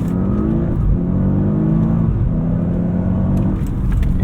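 A 2017 Audi S8 Plus in sport mode pulls hard under full throttle, its engine note heard from inside the cabin rising in pitch through the gears with a brief dip at a shift, loud and continuous.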